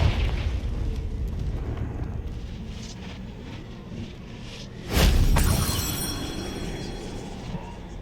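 A Confringo blasting spell goes off in Hogwarts Legacy as a sudden, booming explosion midway through. Rumbling debris and a lingering crackle follow over a low ambient background.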